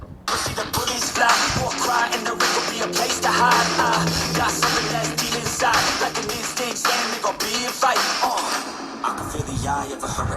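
Dense, full-range, easy-listening music with a steady beat and noticeable bass plays continuously and fairly loud through a Realme GT Neo 3 or 3T phone's speakers.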